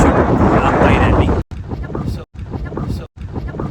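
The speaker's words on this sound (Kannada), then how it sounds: "ಗಾಳಿ ಮಾತ್ರ ತುಂಬ ಚೆನ್ನಾಗಿದೆ" Wind gusting across an exposed hilltop at Nandi Hills on a cold day, a loud broadband rush buffeting the microphone in several bursts separated by brief dropouts.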